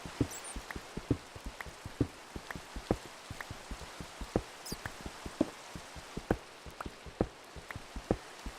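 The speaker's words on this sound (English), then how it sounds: "that rain sounds so nice" Scattered raindrops in a video game tapping irregularly on a hard surface, sharp close plinks against a quiet background, with no voices.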